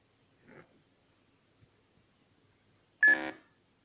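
A K2 EMF meter gives a short electronic beep near the end, loud and sudden after a mostly quiet stretch with a faint earlier rustle.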